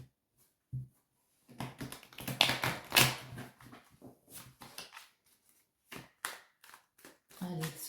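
Divination runes clatter and tap in irregular clicking bursts as they are shuffled, close and fairly quiet, while a voice speaks at intervals.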